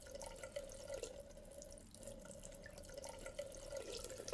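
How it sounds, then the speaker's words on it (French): Water runs steadily from an opened bathroom sink tap in a children's TV scene, a continuous close hiss with no voices over it. "J'ouvre le robinet. L'eau commence à couler."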